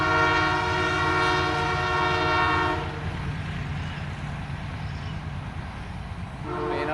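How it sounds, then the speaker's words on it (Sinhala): Train on the Kurunegala to Maho line passing close by through rice paddies, a loud sustained horn blast at the start, then the rumble and clatter of the cars rolling past, with another short horn near the end. "ඔන්න යාළුවනේ කෝච්චියකුත් යනවා මේ ළඟින් බලන්න"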